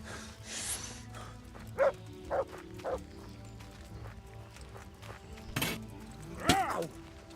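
Dog in the Kingdom Come Deliverance video game barks in a few sharp, separate yips and barks, with clip-clopping hooves and a brief voice in the background.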